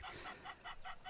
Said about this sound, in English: That is our Egyptian geese that is somewhere throwing a tantrum around the water hole.